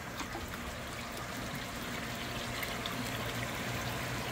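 Water from a koi pond filter system pouring and trickling out steadily, a continuous broadband rush at an even level with no voices.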